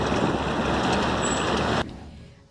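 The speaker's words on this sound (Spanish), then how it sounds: "Es un carro funerario." A hearse idles on a street in Maracaibo, a steady broadband engine rumble close by for almost two seconds before cutting off, then a short burst at the end.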